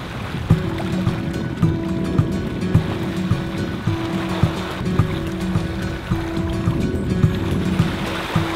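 Water rushes and sloshes steadily against a sailboat hull moving at about 5 or 6 knots on the Atlantic, with a low, even hum running underneath and no voices.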